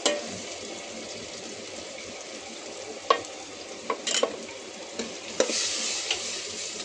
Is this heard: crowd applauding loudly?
no